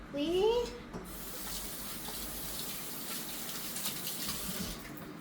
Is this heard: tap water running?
yes